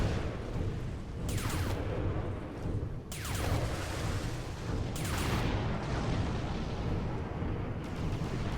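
Heavy explosions from the Kuma robot in Supreme Commander: Forged Alliance boom again and again over a constant battle rumble, several sharp blasts a second or two apart, each with a crackling tail.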